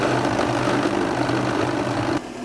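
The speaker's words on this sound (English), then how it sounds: "And I will grind all this." A loud electric grinder whirs steadily at close range, its motor tone dropping slightly just before the end.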